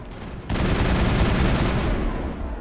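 Sustained automatic weapon fire from the video game Mass Effect erupts suddenly and continues as a dense, loud, unbroken burst with no talk over it.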